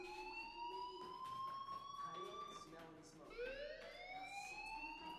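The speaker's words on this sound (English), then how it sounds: "do you hear that fire alarm?" A school fire alarm in the video game Life is Strange sounds as a loud rising and falling siren-like wail, repeating, while a voice talks over it.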